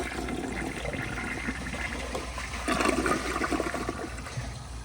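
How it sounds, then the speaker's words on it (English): A 1999 Mansfield Aegean toilet flushes nearby with a loud rushing gush of water that swells midway and keeps churning to the end, no voices. "here is a flush."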